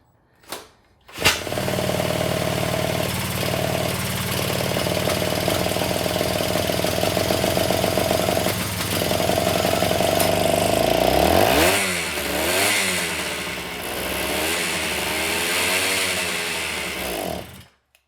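A Kawasaki Trail Boss ATV with a recently rebuilt carburetor starts up with a sharp bang and then runs steadily nearby, its revs rising before it sputters and surges unevenly toward the end, with no talk.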